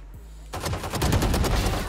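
Valorant pistol gunshots on the Icebox map: a quiet start, then from about half a second a dense, loud burst of rapid cracking shots that continues to the end.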